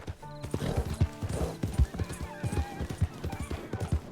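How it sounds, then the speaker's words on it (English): A Fox Charron Mark II horse in the Red Dead Online video game trots with a steady, close clip-clop of hooves and gives a neigh partway through. "The Fox Charron Mark II is a good horse."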